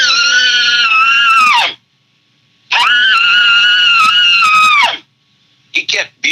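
A man blows a small bugle tube to imitate a bull elk's bugle: two long, loud, harmonic-rich squealing calls with a short silence between, followed by a few brief chuckle-like grunts.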